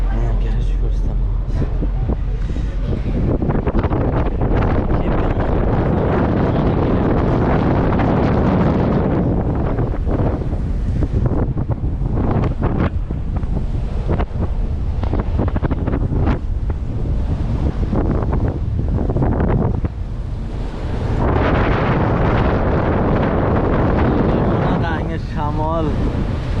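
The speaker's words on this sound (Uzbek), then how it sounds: "Shamol." Strong wind outdoors in Denmark near a garage buffets the microphone loudly and continuously, a heavy roaring rush that rarely eases, with a voice speaking now and then beneath it.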